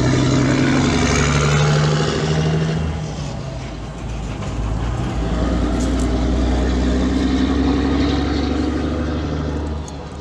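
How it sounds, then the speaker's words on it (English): A loud truck passing a gas station, a heavy low engine rumble and roar that stays close and prominent throughout, dipping briefly midway before swelling again as it goes by. "I'm going to let the loud truck come by."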